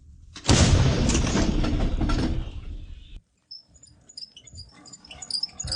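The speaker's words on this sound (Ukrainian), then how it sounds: "Гармата. Постріл." An artillery cannon fires with a sudden loud blast that bursts in and rumbles for a few seconds before cutting off, followed by quiet ambient noise with faint high chirps.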